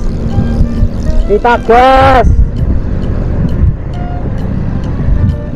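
A pack of about seven Benelli motorcycles, including a modified Benelli Evo PE250, rumble along on a night ride, a steady engine drone filling the background while a rider briefly talks over it.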